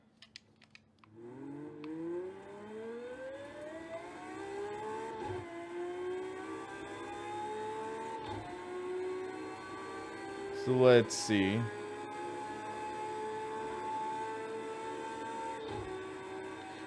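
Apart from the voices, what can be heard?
race car engine in the video game Project CARS 2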